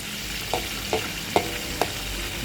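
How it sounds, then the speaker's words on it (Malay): Steady hissing sizzle of chicken tenders frying crisp in oil, with four light scraping stirs spaced roughly half a second apart, close up. "Kita goreng dia ni kena beri garing dah."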